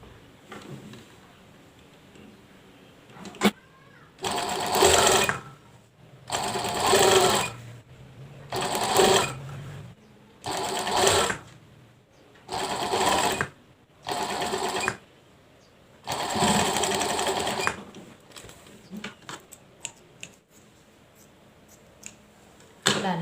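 A sewing machine stitches a shirt collar in a series of short, close bursts of whirring, roughly a dozen starts and stops with quiet gaps and small clicks between them.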